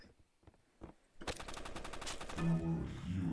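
Rapid bursts of gunfire in the shooting game Banana Shooter, including shotgun fire, start after a quiet second and continue loud and dense to the end, with a faint voice early on.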